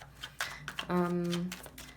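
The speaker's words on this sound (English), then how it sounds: "Sometimes these shuffles take time" Tarot cards being shuffled give a few quick, soft riffling bursts, close and fairly quiet, alongside a brief bit of talk.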